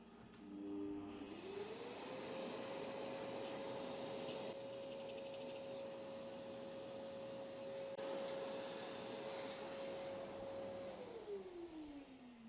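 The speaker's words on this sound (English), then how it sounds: "now we just grind the final height of the back side parallel to the cutting face" A surface grinder works a tool blank for an ID grooving tool, grinding the back side parallel to the cutting face: a steady, hissing whine that rises in pitch, holds level for about ten seconds, then falls away.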